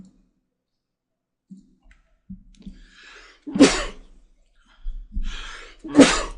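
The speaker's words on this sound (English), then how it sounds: "They always come in twos, those sneezes." Two sharp sneezes burst out close to the mic a couple of seconds apart, preceded by quiet breaths and small clicks in an otherwise silent room.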